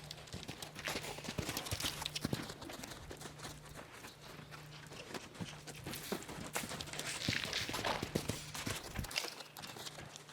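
Horse in a pen walking and cantering, hooves clip-clopping in a steady, fairly rapid rhythm on the ground, moderately distant and continuous throughout.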